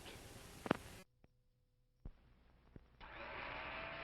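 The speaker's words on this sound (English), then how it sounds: "It's a General Electric blender that's going around." A General Electric blender motor whirs in two bursts of steady, fairly loud noise, with a near-silent gap and a few soft clicks between them.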